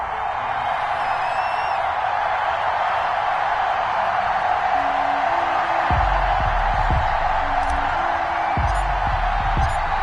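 A stadium crowd roars steadily in a Madden NFL video game before an Eagles vs Washington matchup, a continuous wash of cheering with faint whoops and low thumps beneath it.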